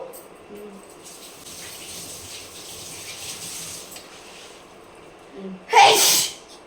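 A single loud, sharp sneeze bursts out near the end after a stretch of quiet background noise and faint voices.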